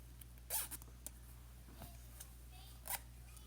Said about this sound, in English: what we're going to do is test our zipper.